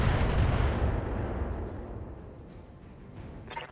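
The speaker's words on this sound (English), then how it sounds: "I'm under heavy fire." Heavy weapon fire and explosions in the BattleTech mech combat game, a loud rumbling barrage that starts dense and slowly fades over several seconds, ending with a few sharp impacts.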